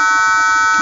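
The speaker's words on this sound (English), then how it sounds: "buzzer also sounding." Railway gate warning buzzer in a Proteus circuit simulation, a loud, steady electronic tone with a harsh, rich buzz sounding continuously for under a second.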